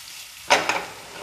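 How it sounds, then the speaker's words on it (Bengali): Onions for a dhaba-style dal fry sizzle softly in a pan, then two quick close stirring scrapes rise over the frying hiss before it settles back. "পেঁয়াজগুলো একটু ভাজা হয়ে গেলে আমি এখানে টমেটো কুচিগুলো অ্যাড করে দেব।"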